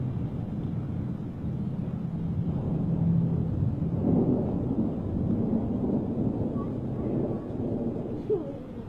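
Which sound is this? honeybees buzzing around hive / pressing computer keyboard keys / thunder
thunder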